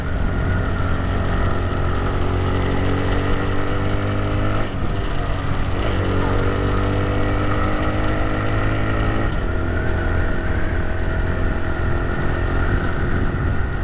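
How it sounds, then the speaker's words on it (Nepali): An old, worn-out motorcycle engine drones loudly at full throttle, holding a harsh, rattling tone throughout, with small dips and surges where the pitch sags and climbs again. "फुल बटार्दा नि कुद्दैन यो बाइक त यारमा"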